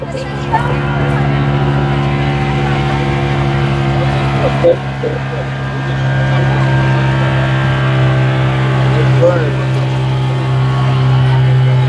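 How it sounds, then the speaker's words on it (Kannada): A boat's diesel engine, on a ride to St. Mary's Islands, rumbles steadily in a low continuous drone, loud and close, with people talking faintly over it. "ಇದು ಡೀಸೆಲ್ ಇಂಜಿನ್ ಸ್ಟಾರ್ಟ್ ಮಾಡ್ತಾರೆ ಇವಾಗ"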